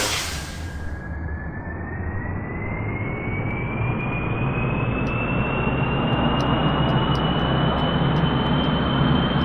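Jet engines and solid rocket boosters roar steadily as a plane launches in Kerbal Space Program, a loud broadband rush with a rising whine that holds for the whole stretch without any talk.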